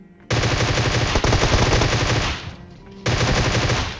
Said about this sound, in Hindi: सबसे पहले तो पिछले वाले बंदे को मैंने फायर किया